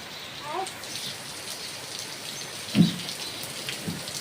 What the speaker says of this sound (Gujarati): વરસાદ બહુ સારો પડી રહ્યો છે